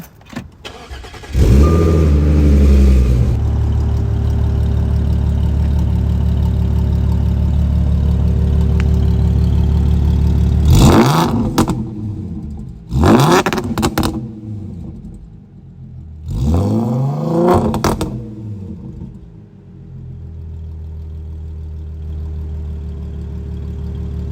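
A manual-transmission Audi S4 engine cranks and fires up near the mic, settling into a steady idle, then revs up sharply three times with idle in between, and keeps idling to the end.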